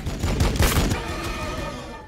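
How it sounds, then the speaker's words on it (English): Weapons fire on the enemy in the Warhammer 40,000: Battlesector game, a burst of several rapid booming shots in the first second that then fades into a ringing, echoing tail. "Firing on the enemy."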